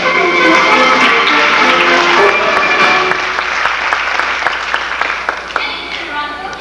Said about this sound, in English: A warm round of applause, if you will, for tonight's guest artiste and London's leading male impersonator, Miss Alice Nutting.